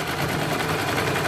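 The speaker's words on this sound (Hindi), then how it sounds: "किनारे पे सिलाई लगानी" Sewing machine stitching along the folded edge of salwar fabric, a steady continuous mechanical whir that stays even and fairly loud throughout the short stretch, with no talking.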